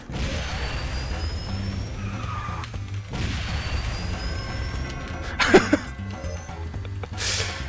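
Drifting car in a racing video game, a sustained engine drone with tire skid and squeal layered over it, a couple of sharp bursts near the end, fairly loud and continuous.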